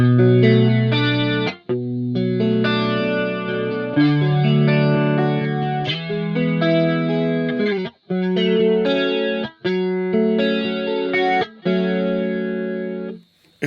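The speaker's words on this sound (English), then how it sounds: "So the first one is a 2-voice shallow chorus" DigiTech XP200 modulator running a two-voice shallow chorus on electric guitar, giving sustained strummed chords a subtle widening shimmer, played loud and continuous with a few brief gaps between phrases, no talking.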